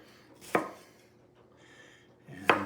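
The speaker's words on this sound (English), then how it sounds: "and then just kind of chop these up" Two sharp knife chops through tomatoes land on a cutting board about two seconds apart, each a crisp close thud with quiet kitchen air between them.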